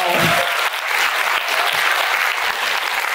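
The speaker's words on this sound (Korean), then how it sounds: "박수 한번 주시죠." Seminar attendees break into loud, sustained applause, a thick wash of clapping that holds steady for about three seconds.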